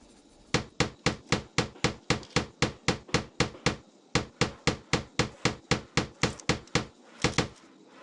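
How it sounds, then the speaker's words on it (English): Hammer driving nails into a wooden sled in the Tonka Workshop computer game, a long run of sharp, evenly spaced close knocks at about three per second with one brief pause partway through. "Use the hammer to nail together your sled."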